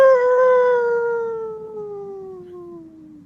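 A man imitates a wolf howl with his voice, a single loud, drawn-out tonal howl that slowly glides downward in pitch and fades over a few seconds, heard alone.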